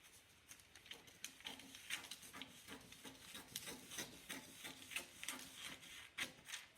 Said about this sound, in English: So I'm just cutting up the centre back here.